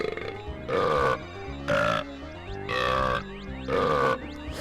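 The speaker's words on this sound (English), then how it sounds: "I just want you guys to be able to hear the burping sound effects because they're so ridiculous" Four loud, exaggerated cartoon burps from Donkey Kong 64, each about half a second long and spaced roughly a second apart, with a video game music bed playing underneath them.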